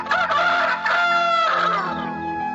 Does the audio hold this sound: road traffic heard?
no